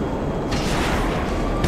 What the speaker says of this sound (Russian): Пожарка взорвалась.